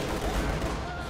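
Sustained, dense gunfire and explosions from a World War II real-time strategy game, Company of Heroes, a loud continuous barrage with overlapping shots and booms, with a voice commenting underneath.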